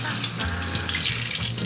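Tap water runs steadily into a sink while spring onions are washed, a close, continuous splashing gush with slight shifts in tone as the stream hits the greens.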